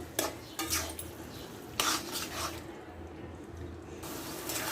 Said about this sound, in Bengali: এবার নেড়ে চেড়ে পাঁচ মিনিটের মতো রান্না করে নিব